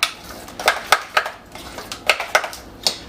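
Egg cracked into a lasagna dish being stirred with a utensil, giving a quick series of sharp clinks and scrapes against the dish, close and fairly loud, roughly ten taps over a few seconds.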